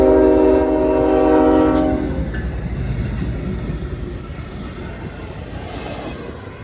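A freight train led by BC Rail locomotive 4609, dragging a snow spreader toward Doncaster, sounds a loud, sustained horn for about two seconds, then rolls past with a heavy, steady rumble of wheels and cars.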